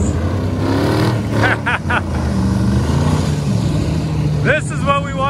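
Derby truck engine held near red line, a loud continuous roar with steady harmonic drone throughout, close by, with people shouting and talking excitedly over it.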